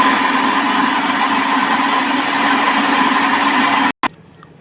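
An electric mixer beats cake batter with a loud, steady whirring drone, cuts off abruptly near the end, then starts again more quietly, with no one talking.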